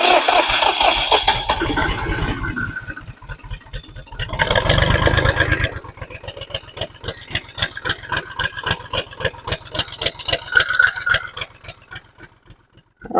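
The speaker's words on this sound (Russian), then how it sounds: "А теперь, пока трактор будет греться," A tractor engine on a snowy morning cranks in loud rapid bursts, catches, then settles into an uneven, rhythmic chugging idle as it warms up, close and with no talk.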